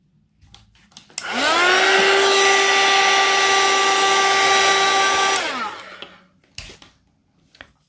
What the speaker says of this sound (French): je vais sécher avec mon heat gun